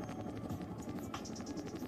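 A Chinook helicopter flies over a large lake during an air force flypast at an air show in Bhopal, its rapid rotor chop pulsing steadily at moderate distance under a busy background wash.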